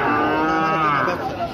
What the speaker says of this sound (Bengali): এ গরু তো আপনার বাড়ির পোষা নাকি?